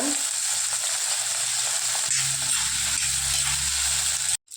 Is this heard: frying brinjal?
yes